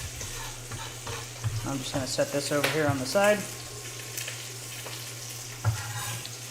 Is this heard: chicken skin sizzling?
yes